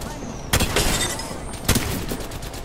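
Shotgun blasts in a first-person shooter game, two sharp bursts about a second apart, close and loud over a low game background.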